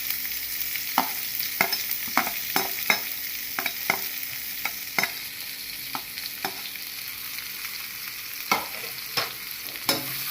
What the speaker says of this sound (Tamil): வெங்காயம் போட்டு கொஞ்சம் வதக்கலாம்.